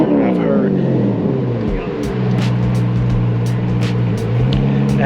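A deep, steady Corvette exhaust drone rumbles throughout at a car meet, with a continuous low engine note and faint higher clicks over the top.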